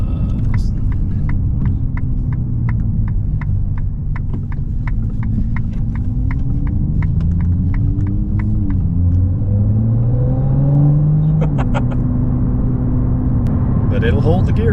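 A Ferrari 296 GTB hybrid V6 supercar on the highway holds a steady low engine rumble with shifting tone, heard from inside the cabin under people talking.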